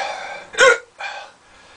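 Two sharp, close hiccups about half a second apart, the first louder and more abrupt, from a person who has just eaten a Carolina Reaper pepper.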